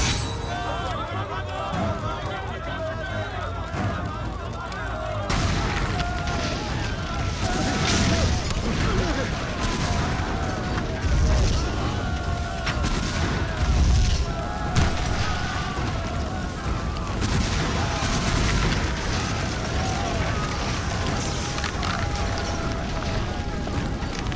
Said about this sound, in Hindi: 3 मिनट बाद इस साइट पर एक के बाद एक धमाके होने वाले हैं